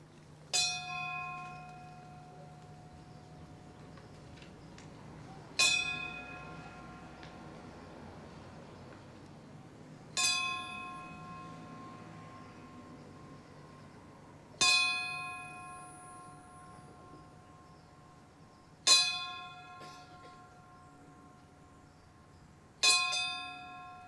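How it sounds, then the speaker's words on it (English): A ceremonial bell at a Memorial Day ceremony rings six single strokes a few seconds apart, each ringing out and fading. The strokes are moderately loud and clear against quiet outdoor background. "ring the bell"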